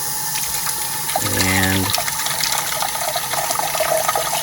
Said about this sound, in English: let's go run this sock underwater